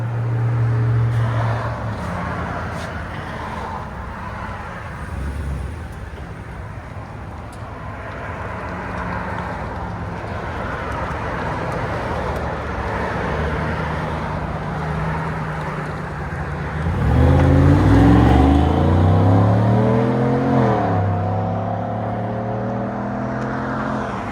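Engine note from a 2022 Chevy Silverado LT with a 5.3L V8 and Borla ATAK exhaust, a steady rumbling idle that swells into a louder rev near the end, then settles back down; no talking.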